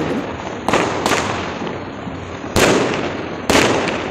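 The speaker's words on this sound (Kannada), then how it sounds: "ಇಲ್ಲಿ ಕೂಡ ಪಟಾಕಿ ಹೊಡಿತಾ ಇದ್ದಾರೆ." Festival firecrackers bursting outside, heard from a fourth-floor building above a residential road: four sharp, separate bangs spread over a few seconds over a steady background hiss, with no talking.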